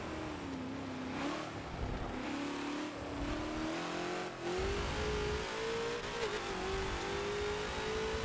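Ultima race car engine in Forza, a GT-style racer at Monza, holds a steady high rev note that shifts slightly up and down with throttle, continuous and close throughout.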